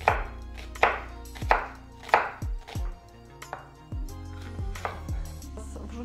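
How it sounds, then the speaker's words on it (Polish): Onion being chopped into half slices on a board, a series of sharp, close knife thuds at an uneven rhythm, a few quicker taps between, with no talking. "Zaczynamy od cebulki. Musimy ją rozdrobnić."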